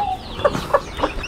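Chickens clucking among their chicks near feeding time, three short close clucks in an even rhythm, loud and clear with no talking.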